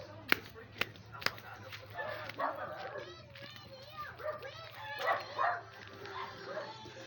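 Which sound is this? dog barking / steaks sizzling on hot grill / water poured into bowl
dog barking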